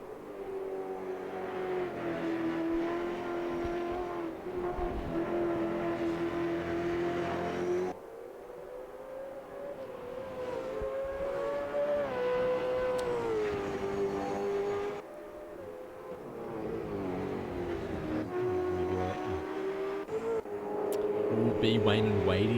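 V8 Supercars racing engines, a steady high droning whine from cars at full speed that shifts pitch as they pass, continuous and loud throughout the race.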